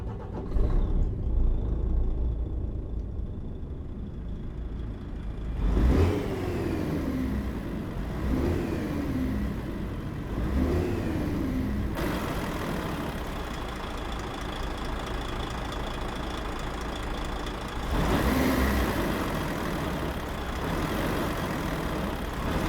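A Neoplan Tourliner bus engine in Euro Truck Simulator 2 drones steadily at idle throughout, rising briefly in a few revving swells, with a low rumble underneath and no talking.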